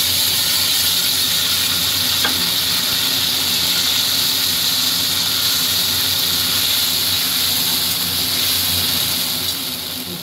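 Chili, ginger and cumin paste sizzles in a hot pan for a Bengali koi fish and cauliflower curry, a steady bright hiss that holds evenly throughout and fades slightly at the end.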